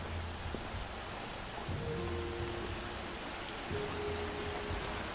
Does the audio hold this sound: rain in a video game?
yes